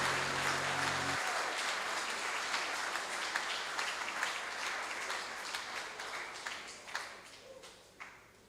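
Audience applause after a performance at a graduation ceremony, a broad steady clapping that slowly fades, leaving a few separate claps at the end.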